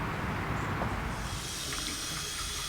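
Running tap water rinsing a pressure washer filter, a steady close hiss and splash that continues throughout with no voices.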